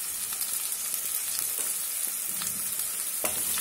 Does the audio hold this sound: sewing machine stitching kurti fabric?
no